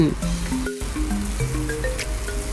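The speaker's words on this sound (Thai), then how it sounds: "ผัดไปเรื่อยๆค่ะจน วุ้นเส้นของเราเริ่มนิ่มนะคะ" Glass noodles stir-fried in a hot pan for shrimp pad Thai, giving a steady close sizzle with light scraping of the spatula throughout, over faint tonal background music.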